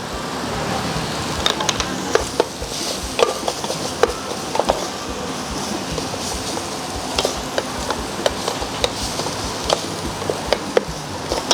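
Food sizzles in a hot pan as a utensil scrapes and clicks against it in frequent, irregular strokes while chicken bolognese sauce with tomatoes is stir-fried.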